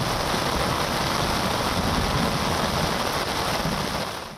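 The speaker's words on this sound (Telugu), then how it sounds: "ఉరుములు మెరుపులతో కూడిన వర్షం కురిసింది" Heavy rain pours during a thunderstorm, a dense, steady hiss of downpour that stays loud and even throughout, with no voices.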